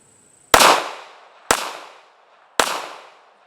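Three loud, sharp pistol shots from a Ruger LCP compact pistol, spaced about a second apart, each with a decaying echo; no talking between the shots.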